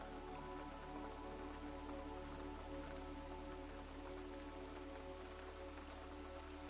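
Steady rain falling on a rainy night at a pottery studio, an even dense patter with no break and no voices.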